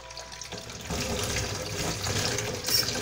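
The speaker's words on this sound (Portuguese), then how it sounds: "Eu vou lavar, vou botar água nele assim, ó, pra sair a casca" Water pours from a tap over peanuts in a bowl to wash off their skins, a steady close rushing splash that swells partway through, with no talking.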